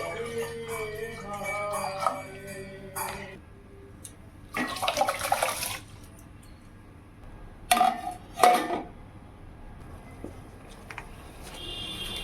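A metal cooking pot holding water and rice is set on a stove, with a few separate bursts of clattering and sloshing water and quiet stretches in between.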